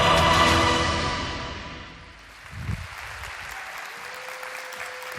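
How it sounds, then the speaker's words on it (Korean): A church congregation applauds to welcome guests onto the stage, with loud, brisk clapping that fades out after about two seconds, followed by quieter room sounds and brief low movement. "큰 박수로 환영해 주세요."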